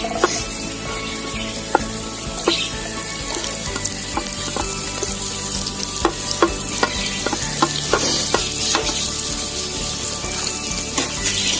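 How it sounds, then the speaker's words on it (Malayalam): Sliced onions frying in hot oil in a clay pot for beef kondattom, a loud continuous sizzle with repeated scraping stirs and clicks from the spoon against the pot. "എണ്ണ നന്നായിട്ടൊക്കെ ചൂടായി വന്നിട്ടുണ്ട്. നമുക്ക് നൈസായിട്ട് സവാള അടി കൊടുക്കാം."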